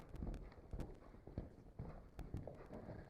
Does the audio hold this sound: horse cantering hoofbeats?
yes